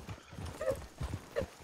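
Horses trotting in the Red Dead Redemption video game (RedM roleplay), a soft rhythmic clip-clop of hooves at close range with a brief whinny-like tone, no talk over it.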